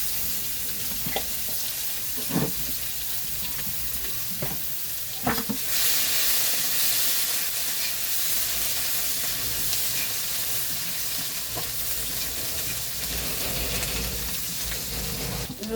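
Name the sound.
garlic frying in oil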